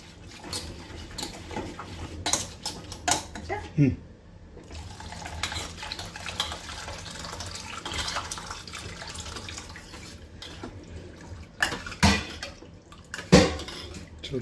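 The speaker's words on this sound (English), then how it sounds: "we'll just mix in some hot water to convert this into a large quantity of rasam" Hot water poured and stirred into rasam concentrate, with uneven splashing and trickling, occasional clinks of a vessel, and quieter stretches of gentle liquid movement, all close by.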